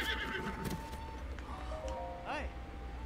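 A horse whinnies in The Legend of Zelda: Breath of the Wild, a rising and falling neigh near the end over game music, with hoofbeats and other game sounds running underneath throughout.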